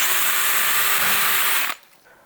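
A star and bamboo drill bit bores into an old leather belt, giving a steady high whir that runs for under two seconds and then cuts off abruptly, with no talking.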